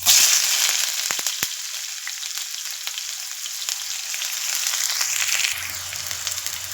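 Onions hit hot oil with mustard seeds for bitter gourd palya, a loud bright sizzle that stays steady, with a few sharp pops and stirring scrapes.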